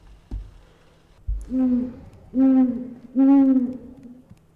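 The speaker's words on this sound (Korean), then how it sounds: "부엉이가 살아요 여기?" Three drawn-out owl hoots in a video game with a deep, steady tone, each lasting under a second, spaced evenly and clear against a quiet background.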